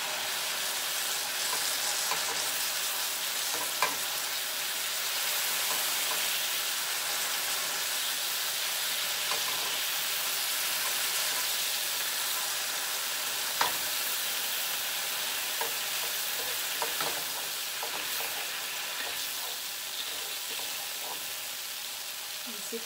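Beef and mushrooms stir-fry in a wok with a steady sizzling hiss and occasional scraping clinks of a utensil, close and continuous with no talk.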